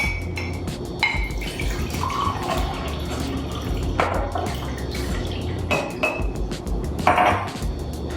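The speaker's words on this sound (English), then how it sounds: "I'm going to pour that water into my measuring cup to the 1 cup mark" Water is poured from a container into a measuring cup up to the one-cup mark, a close liquid splashing with drips and scattered clinks and knocks of kitchenware.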